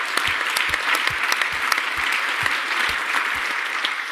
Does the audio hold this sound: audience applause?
yes